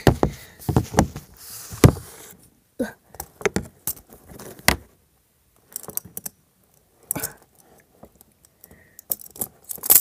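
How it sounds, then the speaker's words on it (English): Keys rattle and clink in short metallic bursts while someone frees a caged Mecha Godzilla toy, with irregular jangles and clacks separated by brief pauses. "I got the keys."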